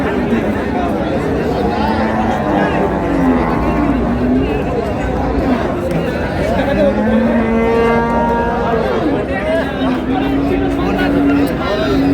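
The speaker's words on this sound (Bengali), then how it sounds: "গাভী বাছুর।" Cows and calves moo with low, drawn-out calls rising and falling amid a busy crowd chattering nearby at a cattle market, the voices nearly constant throughout.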